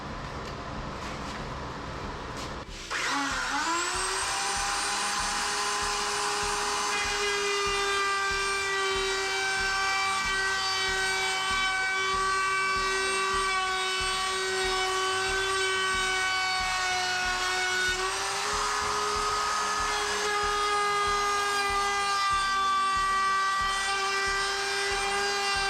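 Router cutting a chamfer along the outside edge of a wooden door for a cover hiding an electrical panel: a loud, steady high-pitched whine after it spins up, holding for over twenty seconds with a brief dip in pitch midway.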